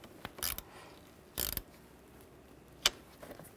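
A ratchet tightening a battery terminal clamp on a 1998-2010 Volkswagen Beetle, heard as a few short, separate clicking bursts over quiet background noise.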